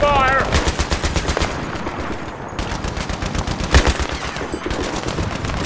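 Rapid machine gun fire rattles without a break through a Battlefield 3 firefight, the bursts loud and close, with heavier gunshots and explosions mixed in and voices faintly under the din.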